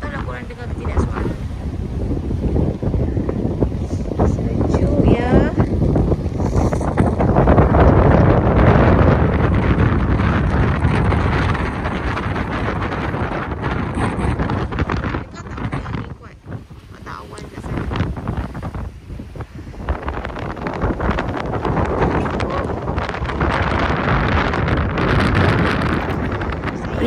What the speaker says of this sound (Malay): Hujan krimis lah, tapi angin sangat kuat.